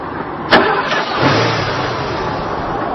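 A car in a GTA video game, a loud close engine start with a sharp click and crank, then a low rev that settles into a steady idle hum, with no talk.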